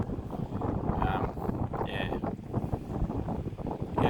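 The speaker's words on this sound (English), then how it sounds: "it's really windy here" Gusty outdoor wind buffeting a microphone in a busy town, a loud continuous low rumble with fluctuating roars, and a person talking faintly underneath.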